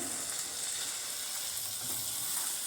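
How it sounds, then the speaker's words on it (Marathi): Vegetables fry in masala in a pan for Kolhapuri kurma, a continuous soft sizzle with faint stirring scrapes, quiet and close, with no speech. "या मसाल्यात अशा पूर्णपणे अशा मिक्स होतील या पद्धतीने हलवून घ्यायचं आहे"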